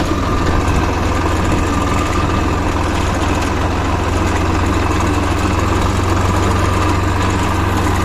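A tractor's heavy diesel engine idles nearby at a constant, loud, vibrating rumble with a knocking throb, steady throughout with no voices.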